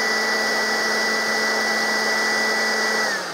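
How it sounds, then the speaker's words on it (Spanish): Air blown steadily over a mini McLaren DRS wing model with the flap closed: a loud, continuous hairdryer-like whoosh with a steady tonal whine, close and unbroken, easing off at the very end. "voy a soplar con el DRS cerrado"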